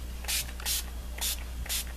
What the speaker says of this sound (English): Basically, you just spray and have fun with your sprays.